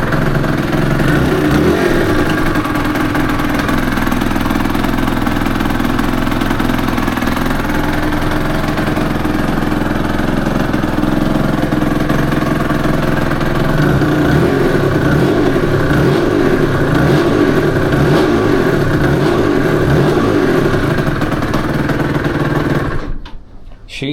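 A Suzuki RG F 125 motorcycle engine, freshly rebuilt with new bearings, runs loud and close with a steady idle that swells into revs before cutting out at the end.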